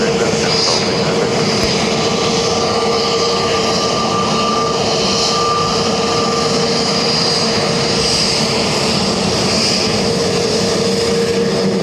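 A Qatar Boeing 777 with a blown tyre lands at Dublin Airport, its engines a loud, steady roar that holds throughout under wind noise, with faint talk in the background.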